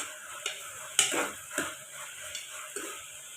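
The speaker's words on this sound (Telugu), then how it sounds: "ఇప్పుడు ఈ వేగిన తర్వాత దీంట్లో టమాటా కూడా వేసుకొని కొంచెంసేపు ఫ్రై చేసుకోవాలి." Vegetables and tomato frying in a pan for veg biryani, with a steady soft sizzle and several distinct spoon scrapes and clinks as the mixture is stirred, close and alone without talk.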